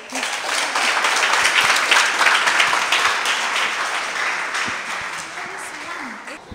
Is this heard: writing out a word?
no